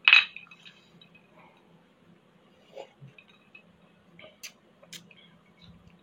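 A brief bright clink of glasses at the start as two people toast with black tea and vodka premium drinks, followed by quiet small taps and faint background sounds in a still indoor space.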